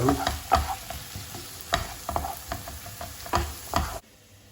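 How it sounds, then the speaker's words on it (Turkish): Onions sautéing with salt in a pan, a close sizzle broken by repeated scraping strokes of a spoon stirring at an irregular rhythm, stopping abruptly near the end. "Soğanımızı ölene kadar kavuruyoruz arkadaşlar."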